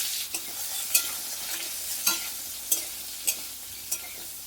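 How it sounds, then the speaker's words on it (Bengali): Chopped bottle gourd sizzles in hot oil in a wok, a steady close fry broken by about seven sharp scraping stirs of the spatula at regular intervals. "লাউগুলোকে এমনি পোড়ার মধ্যে দিয়ে দিলাম কুমড়ি করে"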